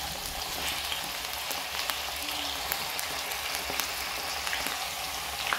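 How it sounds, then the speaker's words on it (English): Potatoes fry in a pan until golden, giving a steady, close sizzle with scattered crackles and pops throughout, no voices. "I'm just going to fry them a bit and get them to a golden state before I add the other ingredients"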